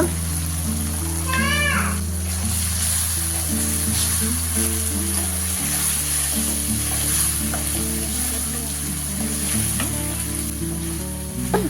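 Ginger-garlic paste and masala sauté with a steady, loud sizzle in a pan for vegetable fried rice, with stirring scrapes throughout and a faint background voice.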